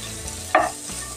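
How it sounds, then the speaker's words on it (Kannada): Red and yellow capsicum with onion frying in a pan, heard as a single short stirring scrape with a brief sizzle burst over a low background hiss, with no voices. "ಇದು ಚೆನ್ನಾಗಿ ಫ್ರೈ ಮಾಡ್ಕೊಳ್ಳೋಣ."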